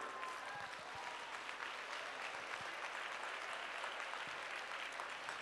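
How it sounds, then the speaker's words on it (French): Audience applause at a women's evening event, a steady wash of clapping from a crowd, fairly soft and distant-sounding, continuing evenly without pause. "un tonnerre d'applaudissements."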